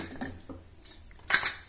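A metal pressure cooker lid clanks and scrapes up close as it is opened over moong dal khichdi, several sharp metallic clinks, the loudest ringing out near the end.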